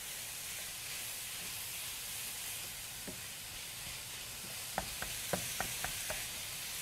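Ground beef and onions fry in a pan with a steady close hiss and sizzle, joined near the end by a run of light taps from stirring, no talk.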